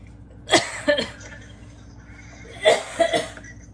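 Two pairs of close coughs, each a quick double hack, separated by a short quiet pause.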